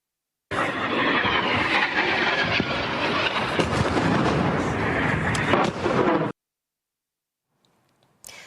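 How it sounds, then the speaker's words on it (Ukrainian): Missile strike on the Black Sea Fleet headquarters in Sevastopol: a long, loud, dense roar of explosions runs for about six seconds, then cuts off abruptly into near silence, with a faint brief noise near the end. "в тимчасово окупованому Севастополі пролунала серія потужних вибухів"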